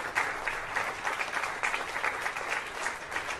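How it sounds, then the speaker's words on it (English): Steady applause from an audience at a carnival show, a dense wash of many hands clapping that stays fairly even and moderately distant from start to finish. "let's give a big round of applause for the greatest show right here on Carnival Spirits"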